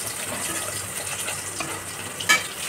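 Spiced masala with sour yogurt stirred and frying in a pan for doi katla, a steady soft sizzle with faint scraping and one brief louder clatter near the end.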